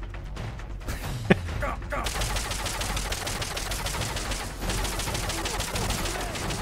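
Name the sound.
gunfire from the video game Metal Gear Solid: Peace Walker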